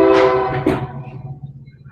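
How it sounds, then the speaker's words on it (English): A train horn sounds loud and close at the start, a steady harmonic blare that cuts off under a second in and gives way to a fading rumble. "Whose train sound effect is that?"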